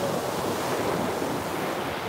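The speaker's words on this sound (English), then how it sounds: "let alone watching a sunrise and listening to waves" Ocean waves surge and wash onto the shore at sunrise, a steady broadband roar with wind buffeting the microphone, continuous and fairly close with no voices.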